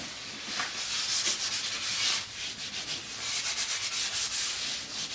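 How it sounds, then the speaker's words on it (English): Hand sanding worn Jaguar leather with 600 grit sandpaper, a steady close rasping scrub in quick back-and-forth strokes, with no talking. "so I've got a bit of 600 grit sandpaper. Just going to go over."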